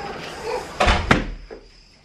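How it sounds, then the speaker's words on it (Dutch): A door being closed while packing to leave a hotel: a couple of close, sharp knocks and a thud, with faint rustling around them. "en als laatste de deur dicht."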